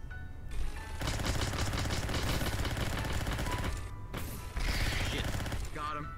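Rapid automatic gunfire from several players fills a VRChat game session, a dense continuous fusillade with a brief pause, then more bursts and scattered shots.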